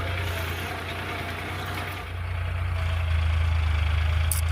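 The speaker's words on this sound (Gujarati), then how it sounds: "ટ્રેક્ટર હાલે છે મિત્રો દાંતી બધું કામકાજ હાલે છે" A Sonalika DI 35 tractor runs steadily in a cotton field, pulling a harrow, its close, continuous engine drone growing slightly louder partway through.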